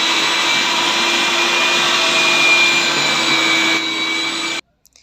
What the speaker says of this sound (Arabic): انا هروح اشغل المفرمة بتاعتنا واسيبكم بقى تسمعوا صوتها